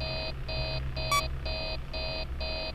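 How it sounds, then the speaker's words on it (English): An alarm in the video game Five Nights at Freddy's 3 beeps in a steady repeating pattern of six electronic tones, loud and continuous, with a brief sharp glitch sound midway. "we're gonna have the alarms go off"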